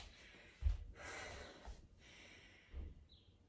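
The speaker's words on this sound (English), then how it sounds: "Take 3 breaths here." A person in a chair-yoga child's pose takes a few slow, quiet breaths close by, each drawn-in and released breath soft and airy, with a short sniff near the start.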